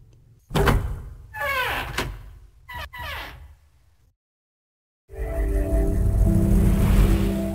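A door opens in the video game Nine Hours, Nine Persons, Nine Doors, with a heavy thunk and sliding, whirring mechanical sweeps, then a short silence before a loud, steady rumbling drone.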